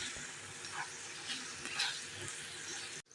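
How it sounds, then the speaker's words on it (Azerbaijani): A seasoned stuffing of salt, turmeric and black pepper for tomato, pepper and potato dolma is stirred in a bowl, giving a soft, continuous moist rustle and scrape, faint and close, ending abruptly. "Və yaxşıca qarışdırırıq."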